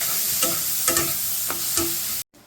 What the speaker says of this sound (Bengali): গোটা ফোড়ন দিচ্ছি। দেখো এই যে পেঁয়াজ কুচি ছাড়লাম,